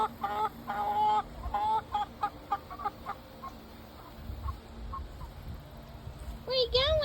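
Chickens cluck and call nearby in an outdoor animal setting, a run of short rhythmic clucks followed by scattered calls and a louder squawk near the end, with a person talking at times.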